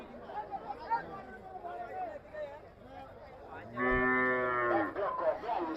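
A cow gives one long, loud moo close by at a busy cattle market in Gobindapur, Burichong, Comilla, cutting through the background chatter and crowd noise.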